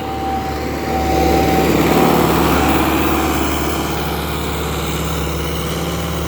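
MTZ-80 tractor engine running steadily under load while plowing, a continuous loud droning rumble that swells slightly early on, heard from up close.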